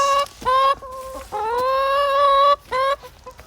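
Backyard hens in a garden coop cluck in bursts of rising, tonal calls, close by and fairly loud with short pauses between phrases.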